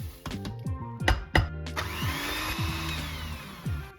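An electric hand mixer whips eggs and sugar in a bowl for sweet banitsa, whirring in short bursts with pitch shifts and clattering beaters, then running steadily near the end.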